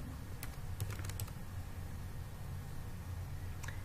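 Keys tap on a computer keyboard in a few quick clusters, faint and close, over a steady low background hum.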